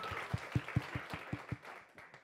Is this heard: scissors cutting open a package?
no